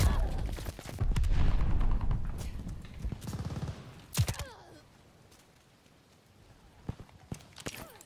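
Gunfire from the KG M40 and Whitley weapons in the Warzone shooter game, with rapid bursts of shots early on, then several sharp isolated cracks spaced apart amid quieter game noise.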